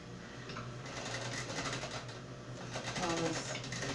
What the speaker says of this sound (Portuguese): Vamos passar uma reta, costura reta de um pé de máquina